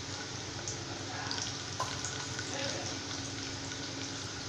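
Chopped garlic sizzles and fries in hot oil for South Indian tamarind rice cooked in a pressure cooker. A steady, close crackle and hiss runs throughout with small spatters and stirring sounds, no talk.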